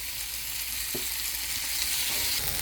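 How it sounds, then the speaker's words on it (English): Vegetables for chicken fajitas frying in a pan with a constant bright sizzle close by, and a spatula knock and scrape as they are stirred. "Back to stirring my vegetables just to make sure they're okay."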